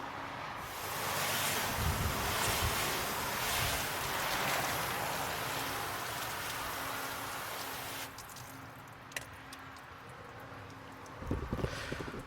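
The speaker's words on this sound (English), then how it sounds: "Let it sit for a minute and rinse, clean the slate." A steady hiss of spraying water rinses the panels of a car after a quick detailer is applied, a broad continuous rush lasting several seconds before it cuts off, followed by scattered drips and light handling noises.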